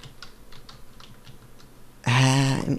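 Clicking keystrokes on a computer keyboard tap out a quick irregular burst at close range, then a voice cuts in loudly over the last moments.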